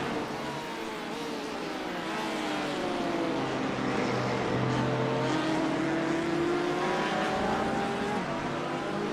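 Race cars at the Daytona 24 Hours in a sim racing game, with a Porsche close behind: a steady engine drone whose whining pitch slowly sweeps up and down across the lap, continuous and fairly loud, with no one talking.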